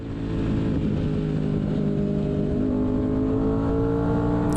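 A car drives the end of a lap at a Harris Hill track day, its engine droning loud and close throughout. The pitch climbs steadily under acceleration, with no talk over it.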